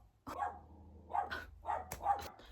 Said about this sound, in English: this fucking dog stop interrupting me all the time